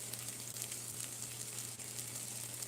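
Tomato paste cooks down in a pot with a steady, close sizzle and faint crackling under a low hum, continuing evenly with no voices.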